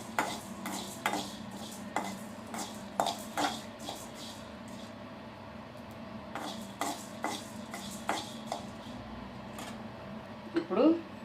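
Whole coriander seeds dry-roasted in a pan with no oil, giving repeated scraping and clinking stirring strokes over a low steady hiss, with a voice talking throughout.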